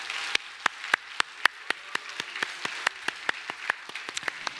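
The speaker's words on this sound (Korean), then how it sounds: "받을 때 박수 한번 해주세요." A church congregation claps in a steady rhythmic beat during a Sunday service gift presentation, evenly spaced crisp claps, moderately faint and in unison, with no talk.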